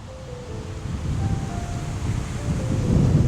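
Steady breezy wind gusting across an open park in Walden, Colorado, a continuous low rumbling rush that swells louder toward the end, with no speech.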